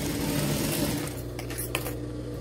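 A sewing machine stitches fabric close by, a steady mechanical whir that quietens partway through, with a few light clicks near the end.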